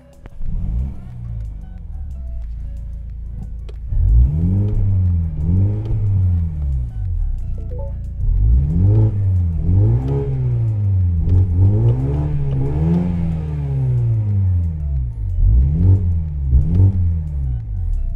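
A Mini Clubman John Cooper Works GP Inspired engine revs repeatedly, rising and falling in pitch in a series of strong, close bursts with a steady idle rumble between them.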